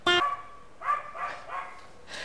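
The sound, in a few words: neighbour's dog barking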